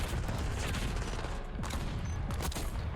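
Rapid gunfire from an AMES 85 rifle in Black Ops 6 rattles through a game mix, a dense run of sharp shots over steady background noise.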